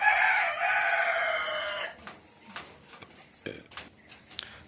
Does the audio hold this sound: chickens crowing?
yes